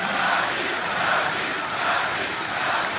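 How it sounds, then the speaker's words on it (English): A dense, roaring arena crowd cheers and chants at the League of Legends All-Star 2014 event in Paris, where hometown favorites Fnatic face OMG; the noise stays loud and sustained, swelling in waves, with no voice standing out. "And you can hear the crowd."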